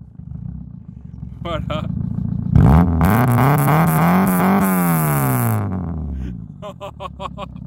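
A warmed-up Peugeot 205 Junior's engine is floored from idle and climbs in a loud, close roar for several seconds before dropping back down. Someone speaks briefly before and after the rev.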